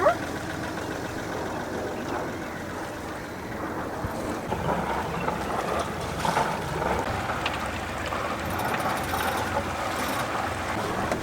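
Sailboat moving at about 5 knots under genoa alone, steady rush of water along the hull mixed with wind noise across the microphone, continuous and close with no talking.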